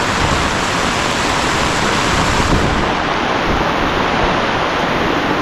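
Heavy rain pours in the mountains, a dense, loud, unbroken roar of rainfall filling the space with no voices.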